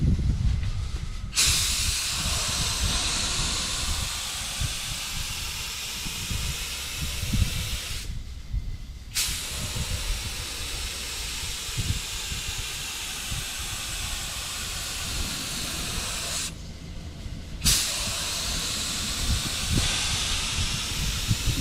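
Spray gun applying single stage paint to a car panel, a steady close hiss running in long passes with a few brief pauses where the trigger is released.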